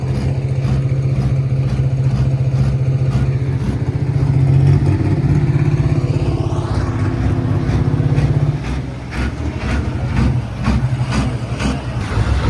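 Diesel tractor engine at a tractor pulling competition, a loud, steady low drone with a rising whine partway through, then a rougher, choppier tone as the run winds down.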